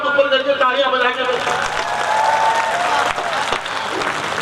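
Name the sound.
audience applause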